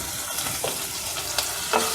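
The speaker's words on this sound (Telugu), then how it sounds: "ఇది కూడా అల్లం వెల్లుల్లి పేస్ట్ పచ్చివాసన పోయేదాకా ఫ్రై చేసేసుకోవాలి." Ginger garlic paste and garam masala fry in a pan for meal maker pulao, with a steady close sizzle and occasional scrapes of a spoon stirring.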